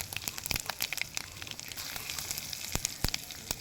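Panch phoron spices and two dried chillies sputter in hot oil for shrimp dal, a busy crackling sizzle with sharp popping snaps scattered throughout. Close and fairly quiet, with no talking.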